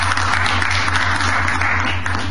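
An audience applauds at a book presentation, with steady, dense clapping that carries on without a break, mixed with a constant low hum.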